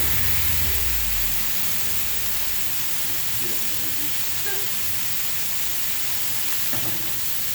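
Smash burger patties sizzle on a 22 inch Adventure Ready griddle turned up to high outdoors by a river, a loud steady hiss and crackle that runs without a break, and a few faint clunks come through it.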